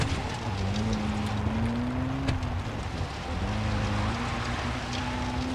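Engine drone of a car driven in the video game Far Cry 3, a steady loud hum whose pitch sags around the middle and then climbs back, with no talking.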